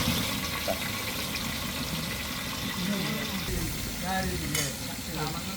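Varal (snakehead) fish frying in oil: a steady close-up sizzle with bubbling and occasional crackles, a voice murmuring faintly underneath.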